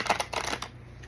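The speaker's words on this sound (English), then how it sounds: "And then I just move the cards around." Oracle cards from an Angel Prayers deck are slid and shuffled across a surface, producing a quick run of soft papery flicks and rustles, close and quiet, tapering off after the first half second with no voices.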